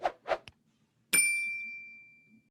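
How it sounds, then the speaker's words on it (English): A single bright metallic ding rings out clearly and decays slowly over about a second and a half, preceded by a couple of soft clicks. "hit the notification bell so you'll know when new videos are posted"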